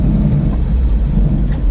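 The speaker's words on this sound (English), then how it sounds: "I have some weird drive shaft vibration, so it kind of drones a little bit from that" A 1970 Volvo 145S droning on the road from a drive shaft vibration, a steady loud low rumble of engine and driveline filling the cabin throughout with no break.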